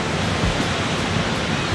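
Steady broadband rush of ocean waves breaking on a beach near a campsite, a continuous wash of surf with no voices, moderately loud throughout.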